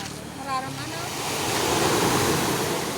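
Ocean surf rolling onto the beach at Dolo Boulevard, a steady broadband wash that swells louder toward the end, with a brief voice near the start.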